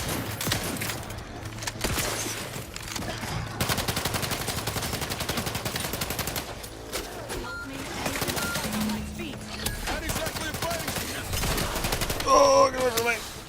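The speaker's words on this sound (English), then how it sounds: "Shotgun." Shotgun fire in the video game The Outer Worlds 2, repeated heavy blasts mixed with other gunfire and combat noise over a music bed, dense and continuous with a louder burst near the end.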